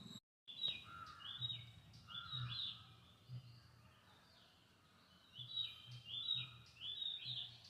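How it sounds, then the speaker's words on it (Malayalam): Birds chirp in short repeated bursts outdoors, fairly faint, with a few separate calls spaced across the clip. "ആ കേട്ട കിളികളുടെ സൗണ്ട്"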